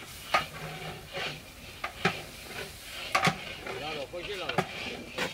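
Rice being stirred into fried spices in a large pot for quail egg biryani, with scraping strokes and clanks at irregular intervals over a low sizzle, and voices talking in the background.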